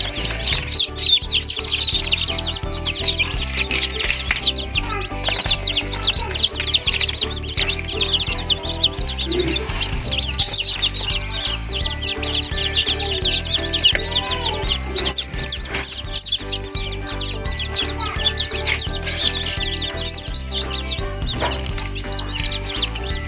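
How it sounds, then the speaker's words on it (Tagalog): Newly hatched chicks from a DIY incubator chirp loudly and continuously as they are moved into a brooder, dense overlapping high peeps with occasional clucks and wing flutters close by. "kukunin na natin yung mga malalakas na sisiw dito at ililipat natin doon sa brooder"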